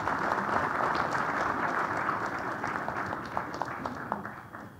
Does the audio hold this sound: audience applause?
yes